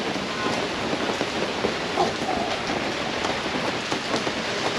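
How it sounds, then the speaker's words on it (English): Heavy rain pours steadily outside a general store in Hendersonville, North Carolina, a dense continuous hiss of drops hitting surfaces nearby with no talking. "it's pouring rain out here"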